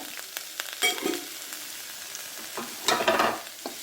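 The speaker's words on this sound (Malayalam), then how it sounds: "സവാള നന്നായിട്ട് വഴറ്റി കിട്ടാൻ വേണ്ടി നമുക്ക് കുറച്ച് ഉപ്പിടാമെന്നോ" Sliced onions with salt sauté in a pan for cabbage curry, hissing and sizzling close by while a spoon scrapes and stirs, with a louder burst of stirring near the end.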